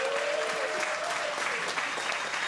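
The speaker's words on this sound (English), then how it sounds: "A big round of applause for Maxine Pink." A crowd at a public talk and conversation event breaks into full applause. The clapping is continuous and fairly loud for the whole short stretch, with a faint tonal hum beneath it.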